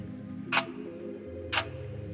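An emergency wall clock in a damp room gives two crisp, isolated ticks about a second apart over a low, steady hum.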